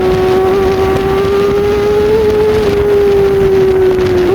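A Kawasaki Ninja ZX-25R inline-four holds a steady, loud high-pitched whine at high revs, with a slight pitch wobble near the end, heard close up over heavy wind rush.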